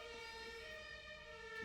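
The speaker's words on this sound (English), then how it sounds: "Cue in ambulance, good timing." An ambulance siren wails outside on a Berlin street, a sustained tonal cry with rich harmonics, moderately distant and steady over a short stretch, with no talking.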